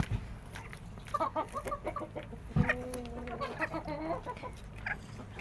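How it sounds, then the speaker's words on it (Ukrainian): A rooster clucks in a run of short, close calls, with a few longer drawn-out notes partway through, over a faint background hum. "Та півник."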